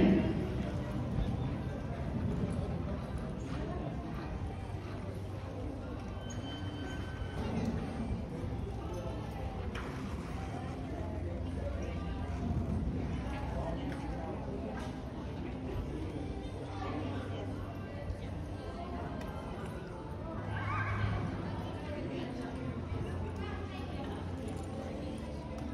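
Horses working cattle in a ranch cutting show arena during a green horse non-pro class, with steady hoof clatter and movement under continuous crowd chatter and a public-address announcer's voice throughout.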